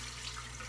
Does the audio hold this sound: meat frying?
no